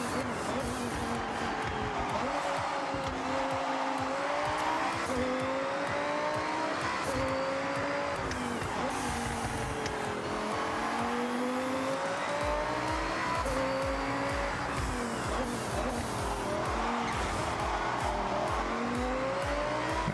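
A race car in a video game drones and whines through continuous engine revs, rising and falling with gear shifts and occasional tire squeal, steady and loud throughout while a voice talks at times.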